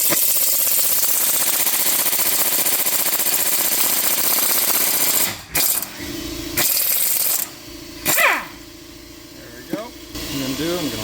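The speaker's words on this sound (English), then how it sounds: "I'm going to impact this second one off" Pneumatic impact wrench zipping a caliper bolt off a 2012 Honda Ridgeline RTL, heard in loud continuous rattling that breaks into short bursts and pauses, with clanks of tools and metal parts in between.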